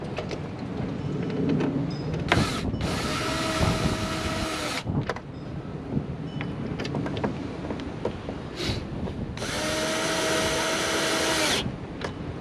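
A power drill with its torque turned up drives fasteners into a Seadoo Fish Pro Trophy boat being readied for saltwater, in two sustained whirring bursts separated by quieter handling noises.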